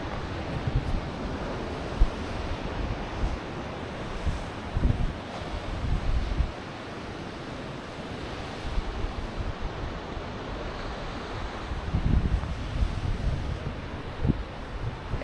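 Pacific Ocean surf at San Francisco rolls in a steady, broad roar while gusty wind buffets the microphone, with occasional louder wave surges and no voices.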